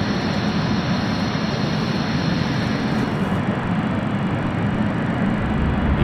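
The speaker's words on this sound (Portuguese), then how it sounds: "O avião começa a rodar pela pista de decolagem." Loud, continuous roar of Inex-Adria Aviopromet flight 1308, a jet airplane accelerating along the runway for takeoff, a broad steady rumble with a high engine whine.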